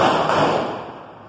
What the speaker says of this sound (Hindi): पूजा के बाद हम स्टार्ट करेंगे अब क्रैकर्स